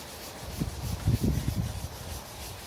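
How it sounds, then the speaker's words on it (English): A round applicator pad rubs walnut oil wood stain into a wooden surface in circular motions, giving a soft, close, steady scrubbing with gently pulsing strokes. "I'm going to take my applicator pad, our round applicator pad, and I'm going to do it in circular motions"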